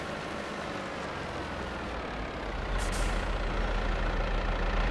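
A farm machine in Farming Simulator 22 lets out a sudden loud air hiss partway through, over a steady low engine rumble.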